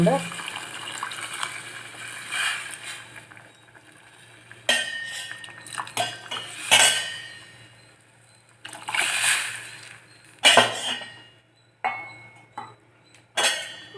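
Soaking water pours in a few bursts into a metal pot of barnyard millet pulao amid clinking of utensils and dishes, with quiet moments between pours.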